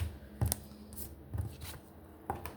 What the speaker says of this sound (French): je sors la deuxième carte